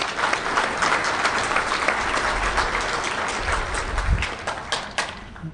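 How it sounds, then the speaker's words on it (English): A DEFCON 17 conference audience applauds for a reverse-engineering presenter, sustained crowd clapping filling the hall with no talk over it. "if we could just like clap for Artem right now"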